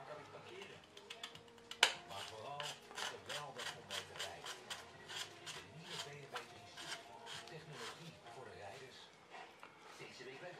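Threaded shroud of a Webley Mastiff air rifle being screwed back on by hand, a quiet run of rhythmic metallic rasping and scraping turns with one sharp click near the start, close up and without talk.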